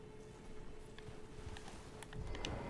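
Horse hooves clop in the video game Elden Ring, a soft, faint run of hoof falls over a low ambient drone, with no one talking.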